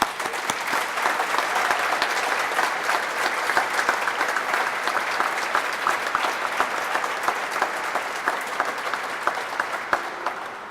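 A large audience applauds steadily for about ten seconds, a dense wash of clapping that stays loud throughout before easing slightly at the end.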